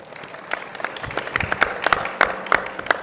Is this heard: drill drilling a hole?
no